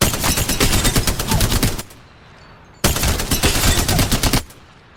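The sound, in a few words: Spitfire machine gun firing in Apex Legends video game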